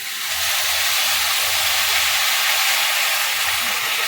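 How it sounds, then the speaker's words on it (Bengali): Hot water poured slowly into rice and lentil khichuri frying in a pan sets off a loud, steady sizzling hiss that swells in quickly and holds evenly to the end. "এবার গরম জলটা আস্তে আস্তে করে আমি দেবো"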